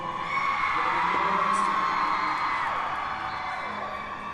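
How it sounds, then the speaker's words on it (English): A large crowd at TwitchCon 2023 cheering, whooping and yelling continuously, loud and dense throughout, with a high whistle-like shriek in the middle. "The crowd is going crazy for you."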